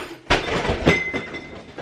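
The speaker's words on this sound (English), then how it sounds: "Don't mind the crash in the background. That's just my meat slicer falling on the floor." A metal meat slicer crashes onto a kitchen floor, a sudden loud impact followed by a second clanging hit with a ringing metallic tone, then a few smaller rattles fading out.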